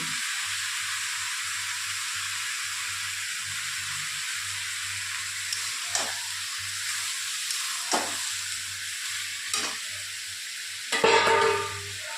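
Onion, garlic and ginger paste frying with spices in a pan for a Bengali chicken dish. A steady, close sizzle continues throughout, with occasional scrapes and clinks of stirring.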